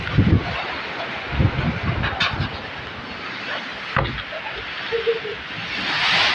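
Gusty wind buffeting the microphone, rising and falling in broad rushes with a steady roar building toward the end.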